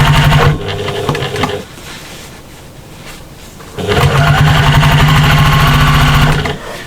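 Sewing machine stitching through dark denim or canvas, a loud steady mechanical whirr that slows to a quieter hum midway and then speeds back up to a fast, even run.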